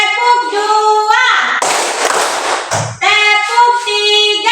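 Children in an Indonesian classroom chant together in a teacher-led routine, with a dense, loud burst of group clapping of about a second between the chanted lines.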